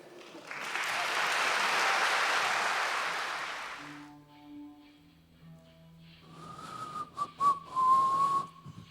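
Graduation ceremony audience for twelfth-grade classes giving loud sustained applause, then sharp whistles cutting through a second burst of clapping, with a held musical tone in between.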